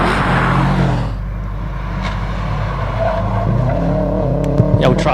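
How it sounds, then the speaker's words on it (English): A Subaru Impreza GC8 WRX rally car powers through a hillclimb hairpin, its engine loud and close at first, then fading to a lower drone, with brief tyre squeal and a crowd of spectators in the background. "Got Jordan making his way through this hairpin now in his Impreza."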